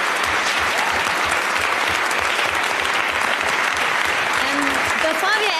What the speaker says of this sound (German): Einen warmen Applaus für unsere Assistentin heute Abend